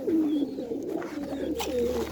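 A female pigeon coos close by in a soft, repeated series of low throaty calls, with faint background rustle and no speech.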